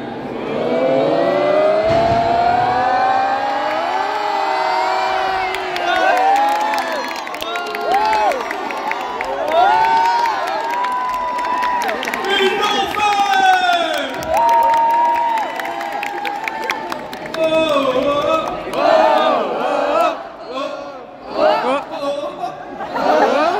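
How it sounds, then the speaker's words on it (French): A crowd at a cosplay contest during an anime convention cheers and shouts, many voices rising and swelling in loudness, with some clapping mixed in. "Attention, on les applaudit"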